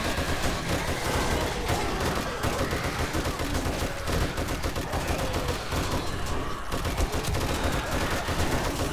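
Junk turret in the game 7 Days to Die firing steadily, a dense unbroken stream of rapid gunfire-like bursts that stays loud from start to finish with no pauses.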